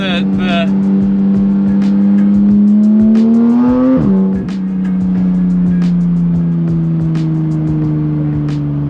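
A car engine drones steadily from inside the cabin while driving, its pitch rising gradually and then dropping sharply at a gear shift before settling into a steady hum again.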